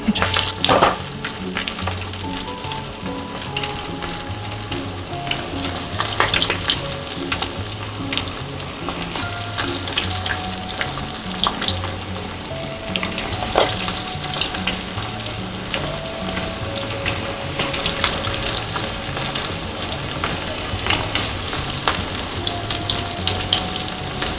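Small mung dal pakodas fry in hot oil on a low gas flame, a steady, close, bubbling sizzle that runs throughout with no talking.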